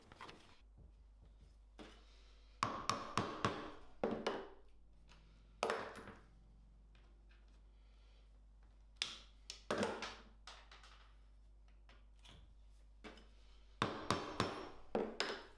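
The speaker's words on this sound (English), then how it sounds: "it's just the same process of setting these rivets into place" Hammer strikes setting rivets in leather, sharp close taps arriving in quick clusters of three to five blows separated by quiet pauses, with a low steady hum underneath.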